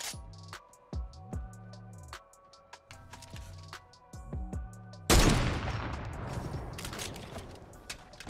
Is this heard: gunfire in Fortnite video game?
yes